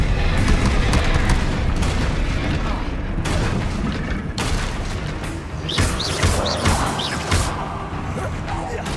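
Confringo blasting spells explode in the Hogwarts Legacy video game, loud repeated booms and crackling impacts amid busy combat clatter, with spoken voices in the mix.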